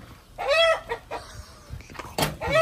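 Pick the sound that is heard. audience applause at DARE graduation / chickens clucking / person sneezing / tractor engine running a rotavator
chickens clucking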